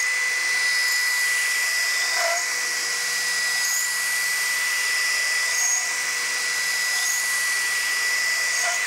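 A new cutting edge is ground onto a boring tool on a grinder, producing a loud, steady, high-pitched whir with a constant tonal whine that carries on without a break and with no speech.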